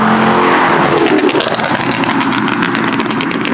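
Chrysler 300 with a stage 1 burble tune revving loudly up close, a throaty engine note rising and falling in steady surges across the whole stretch with no talking.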